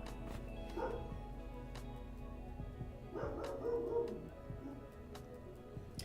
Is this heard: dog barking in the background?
yes